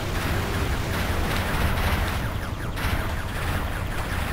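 Rapid weapon fire in the video game Ratchet & Clank, a dense, loud barrage of booming shots and blasts running continuously without a break.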